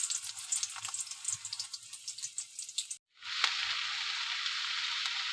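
Momo ingredients go one after another into hot white oil in a kadai. A steady close sizzle and hiss drops out for a moment, then returns louder and continuous.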